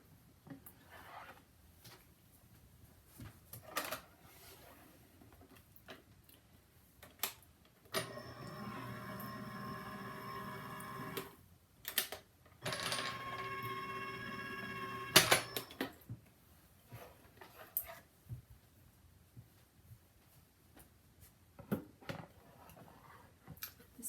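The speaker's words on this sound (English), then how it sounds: "This time I'm going to turn this Glimmer machine off because I'm not going to do it anymore." Glimmer die-cutting machine running in two steady mechanical stretches with a harmonic whir, broken by scattered clicks, taps and handling knocks before and after, close by with no speech.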